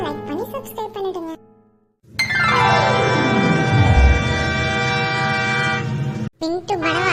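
Cartoon train on a journey: a loud sustained rumble with a falling horn-like sweep runs for about four seconds between bursts of animated character speech.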